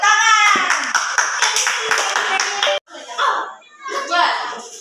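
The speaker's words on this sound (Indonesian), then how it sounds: "Oke, tepuk tangan." A fourth-grade class of schoolchildren claps hands in a classroom, a loud burst of rapid, dense applause that pauses briefly and then resumes, mixed with children's voices.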